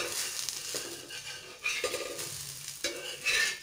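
Adai dosa cooking on a hot pan over a low flame, a soft crackling sizzle broken by a few scraping and tapping sounds from a utensil, close and fairly quiet with no voices.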